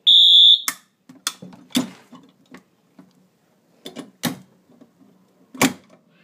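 A building fire alarm system under test sounds a loud electronic tone at the start, followed by a series of sharp clicks and knocks nearby with quiet gaps between them.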